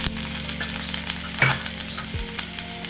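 Peas and whole spices go into a hot pan for veg pulav, raising a strong, steady sizzle and crackle, with a brief sharper spatter midway and a faint low hum beneath.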